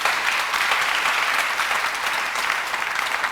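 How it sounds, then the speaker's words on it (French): A church congregation bursts into dense, sustained applause that fills the room evenly from start to end, many hands clapping together at a steady loudness. "On acclame le Seigneur pour la parole de Dieu."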